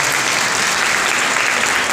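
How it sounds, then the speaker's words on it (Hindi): Loud applause from a church congregation at a Sunday service in Advent, dense and even clapping, close and continuous through the brief clip. "जोरदार तालियां सबके लिए"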